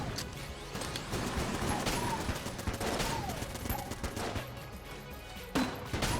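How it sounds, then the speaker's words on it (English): Grenade launcher firing in the shooter game Enter the Gungeon, dense overlapping bursts and blasts with a sharp impact near the end, loud and continuous with no talking. "We can fire a couple of grenades and then just reload instead of firing all 3 grenades"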